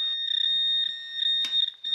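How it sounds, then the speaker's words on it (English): A handheld metal detector emits a steady high-pitched electronic tone with pulsing beeps as it sweeps over ground while hunting for small metal pieces, alone with faint low warbling underneath. "I don't think that's it since it was beeping for a different material"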